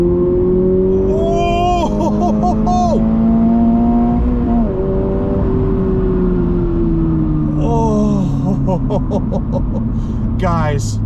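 A 2023 Toyota GR86 with a six-speed manual revs up as it accelerates after a downshift. The engine note climbs and holds loud and close from inside the cabin, with a shift partway through and people talking over it.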